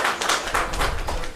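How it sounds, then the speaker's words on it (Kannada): Audience clapping at a political party-joining event, a dense, steady burst of many hands applauding close by with no talk over it. "ಜೋರಾದ ಚಪ್ಪಾಳೆಯನ್ನು ತಟ್ಟೋಣ."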